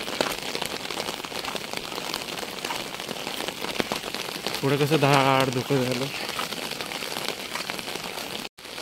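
Heavy rain pours steadily on a village, a dense broadband hiss throughout, with a person speaking briefly over it in the middle.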